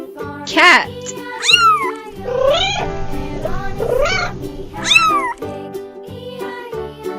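A cat meows several times, loud and close, in rising and falling calls with a drawn-out middle cry and a sharp final meow.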